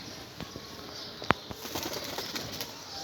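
Pigeons kept in a shanty house coo softly, and a sharp burst of wing flapping cuts in once near the middle, with rustling and small movements around them.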